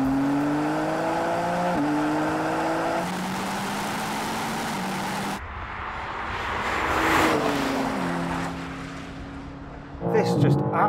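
A BMW M4 CS accelerates hard in a drag race, its engine climbing steadily through several gear changes with the pitch dropping at each shift, loud and sustained, then fading as a second car's engine sweeps past.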